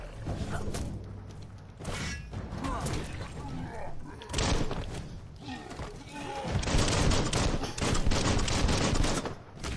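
Rapid bursts of gunfire from the video game Biomutant crackle loudly alongside mechanical clanks and thuds, with someone talking between the volleys.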